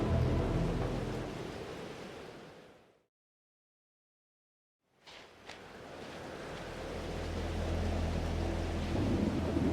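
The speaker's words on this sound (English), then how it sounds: "Storm's here too now." Thunderstorm ambience from Life is Strange: Double Exposure: a steady broadband roar of storm, rain and rumbling thunder that cuts to complete silence for about two seconds midway, then swells back in, with no one talking.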